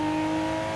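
A Toyota 86 / Subaru BRZ engine held at high revs while drifting, a loud, steady, tonal drone with no break across the short burst.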